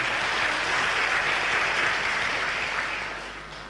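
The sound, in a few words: congregation applause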